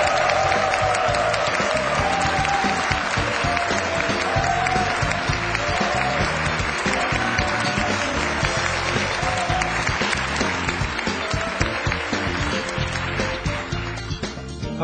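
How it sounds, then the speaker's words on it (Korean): A large hall of students at Intel Korea CEO Lee Hee-sung's lecture keeps up loud, sustained applause for about fifteen seconds as he is welcomed, a thick steady roar of many hands with faint crowd noise. "이희성 대표이사님을 뜨거운 박수로 맞이해 주십시오."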